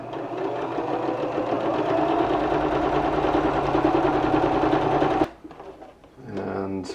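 A sewing machine runs steadily for about five seconds, stitching a square of fabric for a face mask, then stops abruptly, followed by brief handling noises.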